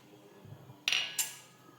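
A metal spoon adding rice flour to bonda batter in a kitchen, a soft low knock followed by two bright, close clinks of spoon against a bowl, short and fairly quiet, with no talking.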